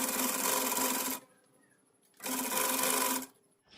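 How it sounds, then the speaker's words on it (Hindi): A sewing machine stitches samosa lace onto fabric in two loud, steady bursts of about a second each, with a short quiet pause between them and the motor starting up again at the end. "इस लेस को यहाँ पे इस तरह से रखते हुए हम यहाँ पे स्टिच कर लेंगे"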